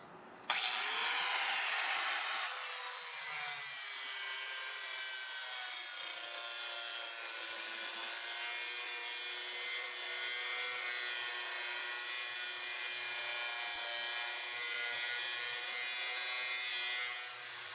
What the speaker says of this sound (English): I don't jiggle my grinder too much when I do the cuts